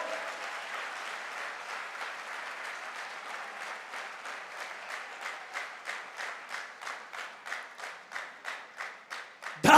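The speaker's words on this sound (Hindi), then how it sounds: "तालियां घनघोर।" An audience at a company promotion celebration bursts into loud applause that gradually turns into strong, rhythmic clapping in unison, the beats growing sharper and louder toward the end.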